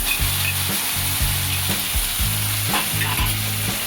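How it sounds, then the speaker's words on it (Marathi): Beaten yogurt poured over sautéed green chillies in a hot pan, bursting into a loud, steady close sizzle with rhythmic stirring scrapes throughout and no talking. "आता आपण दही फेटलेलं टाकून देणार आहोत."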